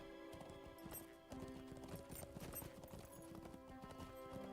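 A war steed gallops in the Lord of the Rings Online video game, quick rhythmic hoofbeats clopping steadily and fairly loud over a game music bed, with a brief whinny-like tone.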